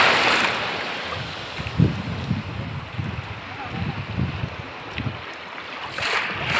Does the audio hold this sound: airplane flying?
no